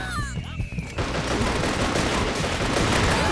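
Continuous rapid gunfire bursts from the side-scrolling shooter game Metal Assault, loud and dense, starting after a brief stretch of game sound effects and music and then rattling on without pause.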